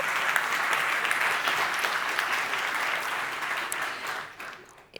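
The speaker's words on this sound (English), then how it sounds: "applause will be in order." Sustained applause from a conference audience at a cyber security panel, a dense even clapping that holds steady for several seconds and then fades out at the end.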